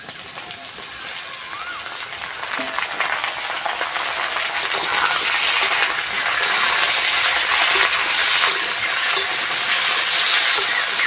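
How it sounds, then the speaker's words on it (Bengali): Okra frying in oil in a pan with potato and onion, a steady broadband sizzle that holds throughout and grows slightly louder, with occasional stirring clinks; a voice talks over it. "আলু আর পেঁয়াজটা ভালো করে ভেজে নিয়েছি এবার ঢ্যাঁড়সগুলো দিয়ে দেবো"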